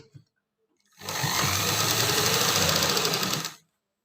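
A sewing machine stitches a pocket seam on pants or a palazzo, starting abruptly and running at steady, fast speed for about two and a half seconds, then stopping, close and clear.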